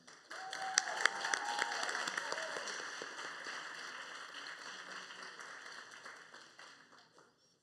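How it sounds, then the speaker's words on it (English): Graduation-ceremony applause for graduating students: a crowd claps steadily with a few sharp claps up front, gradually thinning and fading out. "Let's give all of our students a big round of applause."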